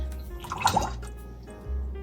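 Liquid poured into a pear mocktail in a glass, a short soft splashing trickle with a few dripping plinks, close and fairly quiet, with no talk.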